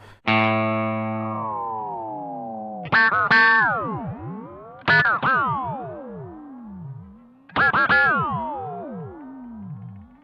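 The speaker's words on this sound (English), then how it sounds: "I did find a pretty cool setting on the Strymon Mobius using the quadratune mode" Electric guitar run through a Strymon Mobius pedal in quadratune mode: four picked notes or chords, each a sharp attack followed by shimmering pitch-shifted harmonies that bend and sweep into long, warbling tails, loud and alone with no talk.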